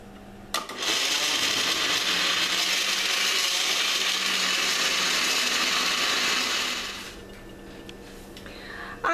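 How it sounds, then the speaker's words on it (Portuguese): A blender whirs loudly and steadily for about six seconds mixing carrot cake batter, then winds down and stops, with a few small clatters at the end. "Agora eu venho aqui, boto no meu liquidificador"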